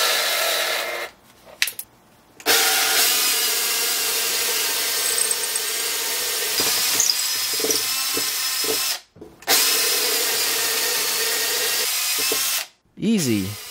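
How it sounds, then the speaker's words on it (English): Power drill fitted with a 6mm bit boring through a 2x4 piece of wood, a loud steady whine running for several seconds at a stretch and cut by brief pauses as the trigger is released. "I'll take a few different sized drill bits and drill through a piece of 2x4"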